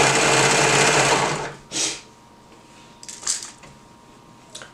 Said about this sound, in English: we're going to serge it at 1/4 inch seam allowance